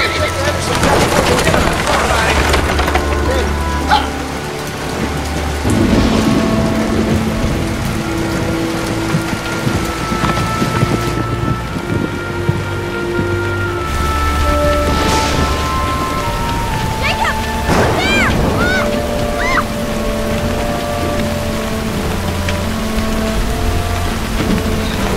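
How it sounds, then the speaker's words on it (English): Heavy rain falls steadily outside a shelter at night, a continuous wash with music and voices layered over it throughout. "We're just gonna stay here till the rain stops."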